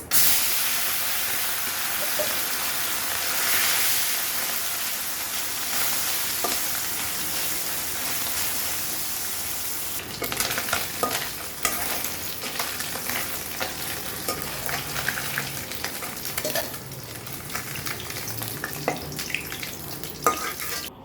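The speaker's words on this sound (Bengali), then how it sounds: "মাছ ভাজার জন্য কড়াইতে তেল দিয়ে দিছি আর তেলটা খুব ভালো করে গরম করে নিয়ে" Loud, continuous sizzling and crackling of small fish frying in hot salted oil in a wok, growing busier and more spattery halfway through.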